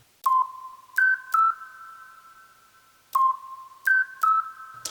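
A lo-fi glow Casio synth patch in Kontakt plays short, pure, bell-like notes in two small three-note phrases separated by a pause, each note ringing on faintly, clean and quiet with no one talking.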